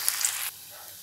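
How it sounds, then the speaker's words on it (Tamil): Potato and poha snacks go into hot oil for deep-frying, giving a short, loud burst of hissing sizzle that drops quickly to a quieter, steady simmer. "எண்ணெய் காய வச்சிட்டு இப்போ இத பொரிச்சுக்கலாம்"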